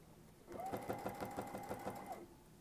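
A sewing machine stitches a quilt border guided by a Westalee ruler from the Westalee Sampler Set, its needle running in a steady, rapid rhythm for about two seconds and then stopping, close and clear with no talk.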